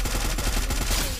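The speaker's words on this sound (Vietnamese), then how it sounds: "Kìa, đang bắn nhau kìa." Rapid gunfire in the battle-royale shooter Free Fire, a dense run of overlapping shots close by, loud and steady for the whole short stretch with no talking.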